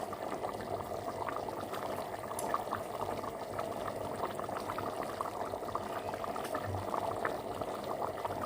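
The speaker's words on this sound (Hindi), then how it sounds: "इसको मैं अभी दम पे रख रही हूँ।" Chicken and chickpea curry simmering on dum with green chillies, mint and garam masala, a steady close bubbling and popping that runs throughout with no talk.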